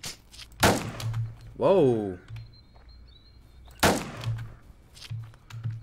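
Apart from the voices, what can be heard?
gunfire in Roblox Island Royale video game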